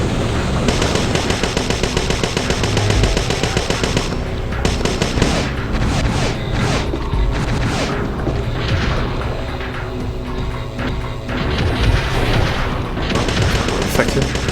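Energy shot attack blasting an enemy in the video game Parasite Eve II, a dense, continuous barrage of loud booming and crackling bursts with heavy low rumble, mixed with game music and effects throughout.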